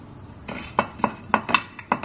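A small Pyrex glass baking dish clinks and knocks against metal cookware as it is handled and oiled in a home kitchen, with about six sharp, close clinks spaced irregularly over a low background.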